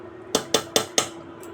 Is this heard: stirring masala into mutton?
yes